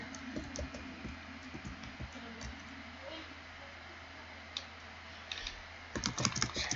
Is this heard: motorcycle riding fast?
no